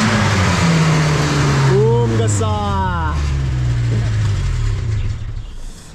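Modified Maruti Gypsy engine revving at a Chandigarh workshop, a loud, deep idle rumble that climbs in pitch through a couple of revs before settling, with someone speaking over it.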